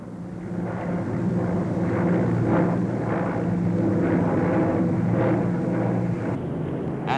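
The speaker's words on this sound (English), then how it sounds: "The very latest in jet bombers, the Victor was there, making its first public appearance" A Victor jet bomber passes overhead at a public display, its engines a loud, steady roar that swells and holds for several seconds with no voices over it.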